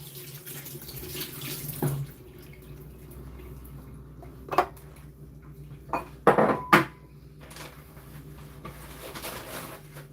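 Tap water runs steadily into a sink while a tin of Jamaican ackee is rinsed under it. A low constant flow carries sharp clinks and knocks of the can against the sink, with no voices.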